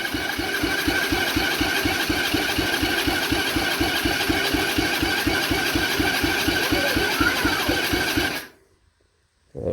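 A Coolster 125cc ATV engine under rebuild runs at a steady, loud idle, its rapid regular chugging continuing for about eight seconds before cutting out abruptly into silence.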